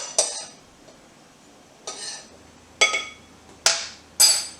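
Almond flour, seasoning and baking powder mixed by hand in a bowl, heard as five sharp clinks of a utensil against the dish, spaced roughly a second apart in an otherwise quiet room.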